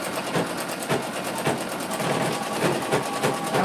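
A sewing machine runs steadily while stitching lace, its needle clattering in a fast, even rhythm close to the microphone.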